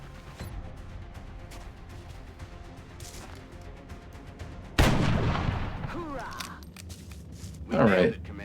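Gunfire in XCOM Long War breaks out as a loud burst midway, then fades, with another short blast near the end, over a game background and a voice talking at times.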